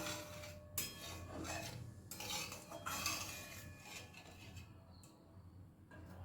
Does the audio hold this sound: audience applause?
no